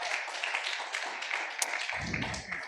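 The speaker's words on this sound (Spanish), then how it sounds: "Dele un aplauso al Espíritu Santo" Congregation clapping in a church service, a steady dense patter of hands held at an even level throughout, with a deeper low thump joining near the end.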